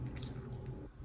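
Water pours into boxed cake mix batter in a bowl, a short, soft, wet squishing and dripping sound heard close up with no talking over it.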